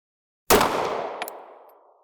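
A single rifle shot firing a 147 grain Remington bonded bullet, a sharp loud crack after silence that rolls off in a long fading echo, with a faint metallic clink partway through the decay.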